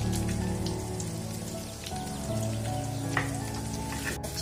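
Chopped garlic and onion fry in a pan, a close, even crackling hiss like light rain, with a faint scrape or two partway through and a brief click near the end; no voices.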